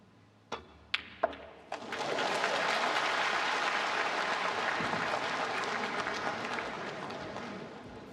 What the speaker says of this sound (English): The crowd enjoyed that.